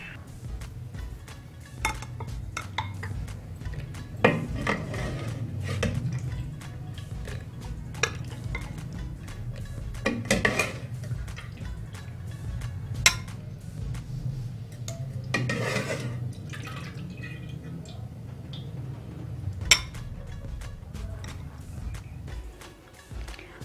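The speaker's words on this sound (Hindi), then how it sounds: "अब हम इसको डिश आउट करेंगे।" Utensils clink against a dish as Bengali chhena rasgulla are served out, with sparse, light metallic taps and chinks spread over a quiet, low kitchen hum, and no voices.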